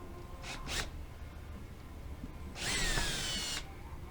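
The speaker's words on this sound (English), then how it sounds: "Just take your time and drill through slow, because you don't want to separate the Kydex" Drill with a pointed bit boring slowly through a Kydex sheet: two brief whirring bursts early, then a longer high whine of about a second, faint against a quiet background.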